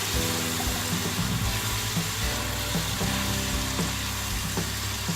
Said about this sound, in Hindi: अब इसमें नमक, मिर्च, हल्दी, धनिया और टमाटर डाल के भून लेना है।